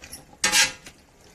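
Marinated chicken for chicken dum biryani being mixed in a pot: one brief, loud scrape of a utensil against metal, then a softer clink, close by, with no talking.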